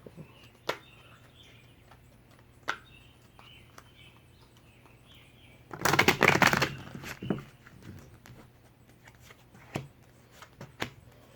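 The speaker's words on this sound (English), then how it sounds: "So, alright, one more shuffle." A deck of tarot cards is riffled in one quick burst midway, with scattered soft taps and clicks before and after in a quiet room.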